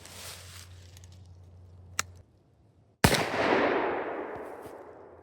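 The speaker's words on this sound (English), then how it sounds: "let's shoot that through the chrono and see what kind of speed we get on those" A .357 Remington Maximum 180-grain round fired through a chronograph: after a sharp small click, one loud close gunshot bursts out and rolls away in a long fading echo.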